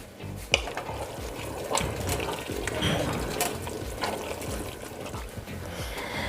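Tomato paste is stirred in a pot for empanada filling, a continuous soft wet swishing and scraping with a few light clinks, fairly quiet and close.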